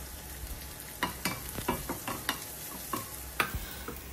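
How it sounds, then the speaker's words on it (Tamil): Sliced onions with fennel seeds sizzle in hot oil while a spoon stirs them, giving a steady frying hiss broken by a dozen or so sharp scraping strokes against the pan, close and moderately loud with no talking. "அதுக்கப்புறம் நான் ரெண்டு ஆனியன் இங்கே கட் பண்ணி வச்சுருக்கேன். அதையும் சேர்த்துக்கிறேன். சேர்த்துட்டு நல்லா மிக்ஸ் பண்ணிக்கலாம்."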